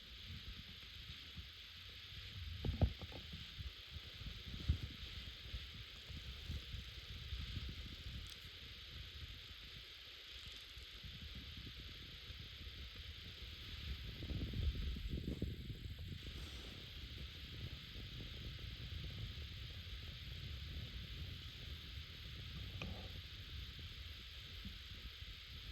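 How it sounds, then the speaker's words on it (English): Strong wind buffeting a microphone outdoors on a Wyoming antelope hunt, a continuous low rumbling roar with gusty swells and thumps, loud and close, no voices. "Gosh, that wind, sorry about the video, the wind is crazy."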